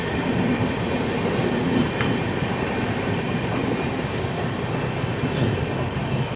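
The Chennai to Mumbai LTT superfast express, train 12164, runs at speed past Puttur with a steady, loud rumble and faint clickety-clack of wheels on the rails, heard from inside the coach with no talk.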